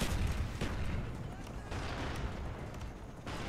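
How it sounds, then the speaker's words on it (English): A grenade blast in the PC shooter Call of Duty: Black Ops gives a loud booming burst with rumbling low-end gunfire and explosion noise throughout, mixed under game audio. "It's a flash grenade going out. Oh, that's a grenade."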